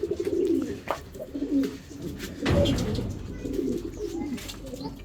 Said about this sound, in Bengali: কবুতর সবগুলি আসছে